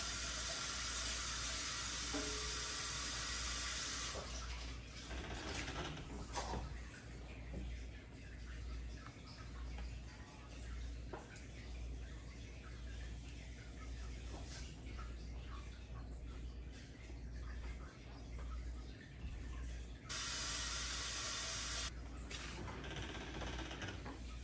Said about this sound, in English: I'm gonna go and rinse the roots.